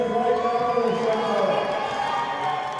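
Crowd at a powerlifting national championship clapping and cheering, a steady dense roar of applause filling the space throughout.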